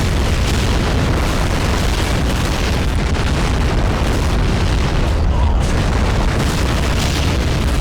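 Incoming fire and explosions rumble through a Men of War battle, a dense, loud, continuous wash of booms and low blasts with no clear pause.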